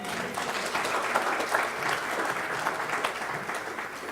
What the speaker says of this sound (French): Est-ce qu'on peut acclamer Dieu?